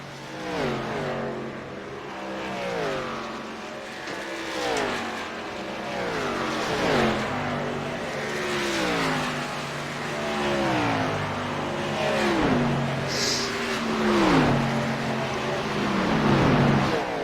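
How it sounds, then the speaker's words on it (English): Stock race cars of the K&N Series lap the Texas oval in a 150-lap race, engines roaring loud and continuous with repeated rising and falling pitch sweeps as cars pass and pull onto pit road. "A lot of other cars hitting pit road."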